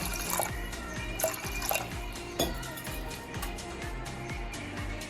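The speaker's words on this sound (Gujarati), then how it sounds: "પાણી એડ કરીશું અડધો ગ્લાસ જેટલું" Water trickles and drips into a pressure cooker holding washed moong lentils, a soft steady pour with light splashes, fairly quiet and close, with no voices.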